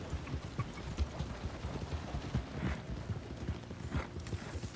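Horse hooves clip-clop in the video game Red Dead Redemption 2, a steady walking rhythm of soft, moderately close thuds continuing throughout with no speech.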